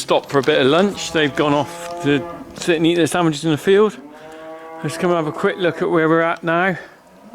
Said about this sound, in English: you can hear a cow in the background there because we've just weaned a calf.